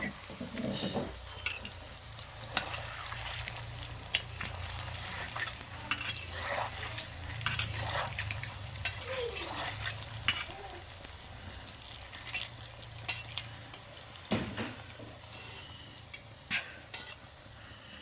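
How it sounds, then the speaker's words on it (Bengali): Bread-based gulab jamun fry gently in oil over a low flame, giving a long, soft, crackling sizzle dotted with frequent light clinks and scrapes of a utensil, and a faint murmur in the background. "আমার মা মিষ্টিগুলোকে ভেজে নিচ্ছে, দেখুন খুব সুন্দরভাবে ভাজা হচ্ছে।"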